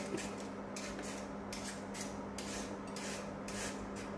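A vegetable peeler draws carrot ribbons with a carrot held on a fork, repeated soft scraping strokes in a steady rhythm, roughly one every half second, close and quiet.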